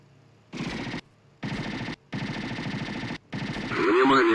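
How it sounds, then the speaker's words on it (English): Machine gun fire in the flight combat game IL-2 Sturmovik from 2001, rear gunner position over a Pearl Harbour defence, comes in four sharp sustained bursts separated by brief gaps, loud and close, followed by a rising engine-like roar. "Okay, there's a machine gun."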